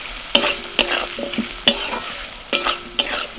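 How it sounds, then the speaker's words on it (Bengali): Potatoes frying with turmeric, salt, cumin and red chilli powder, stirred in a pan: five or six sharp spatula scrapes over a steady sizzle, close, with no voices. "আলুর সাথে মশলাটা একটু কষিয়ে নিয়েছি।"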